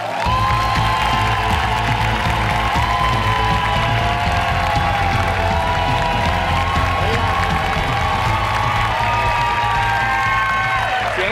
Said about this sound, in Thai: เสียงเชียร์เหมือนเชียร์กีฬา